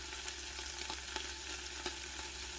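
Seaweed being stir-fried in a pot over high heat for seaweed soup, a faint steady sizzle with light scraping stir strokes and soft clicks, no voices.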